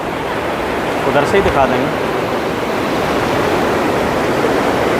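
The Narmada river rushes between towering white marble rocks in heavy rain, a loud, steady roar of water throughout, with a person speaking briefly over it.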